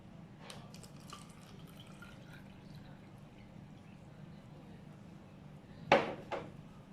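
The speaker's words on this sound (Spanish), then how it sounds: "Y posteriormente agua fría al colorante azul." Cold water goes into a glass of blue food colouring in a tabletop experiment, one brief nearby splash and a smaller follow-up trickle near the end of a quiet stretch.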